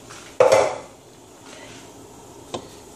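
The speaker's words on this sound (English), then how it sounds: "so we're gonna stir that up" A spoon scraping and knocking around a pot of seafood gumbo with shrimp and crab meat, one loud clanking stir near the start followed by a quieter tap later, close and alone without talk.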